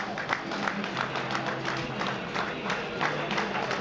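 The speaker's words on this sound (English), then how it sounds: "smattering applause for the Shots faithful" A smattering of applause from Aldershot Town's home fans on a partly emptied East Bank, scattered claps rising and falling at a distance, heard under a broadcast commentary mix.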